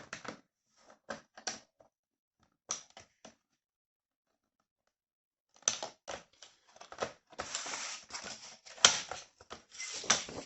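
Small scissors snipping paper card for a handmade pocket card, sharp dry clicks in short bursts, first sparse, then a pause, then a denser run of quick cuts, close and quiet.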